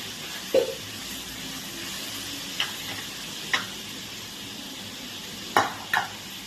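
Onions being fried in a pan sizzle softly and steadily while a utensil stirs them, its scrapes landing as a handful of sharp, uneven taps over the hiss.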